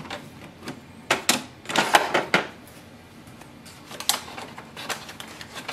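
An Epson ET-2800 inkjet printer works through a colour copy with soft mechanical whirring punctuated by irregular clicks and clacks of the carriage and paper feed, moderately close and without speech.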